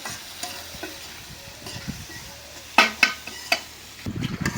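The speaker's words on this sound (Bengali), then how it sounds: "পেঁয়াজটা একদম লাল করে ভাইজে নিলাম" Onions fry in a pan under a soft background sizzle, punctuated by a few sharp scraping clinks of a spatula stirring, with a burst of busier stirring near the end.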